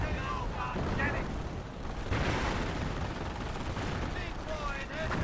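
Gunfire and explosions fill a World War II strategy video game beach assault, a dense and continuous barrage of rumbling blasts and rattling shots, with voices shouting faintly in the mix.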